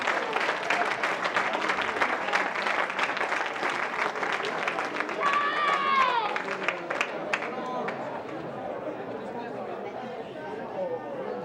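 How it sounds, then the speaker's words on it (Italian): Sustained crowd applause and clapping at a youth regional athletics championship in Veneto, filling the whole stretch at steady loudness, with crowd chatter mixed in and a brief whistle-like tone partway through. "meritano un grande applauso"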